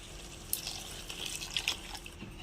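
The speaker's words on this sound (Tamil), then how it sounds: "தேவையான அளவு தண்ணி ஆட் பண்ணியாச்சு." Water pours into a pan of potato kurma, a soft continuous splashing with a few brief drips and trickles, close and fairly quiet, no talk.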